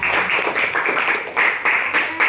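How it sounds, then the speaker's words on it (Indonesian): Applause in a classroom-style session, a dense patter of many hands clapping steadily with a few louder swells, no speech over it. "Aplaus untuk Pak Bro dan Hania"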